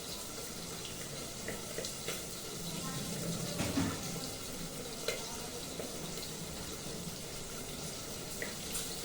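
Water pours into a pan of cooking spices with mustard, a steady splashing and sizzling hiss close by, swelling briefly midway, with some talking underneath.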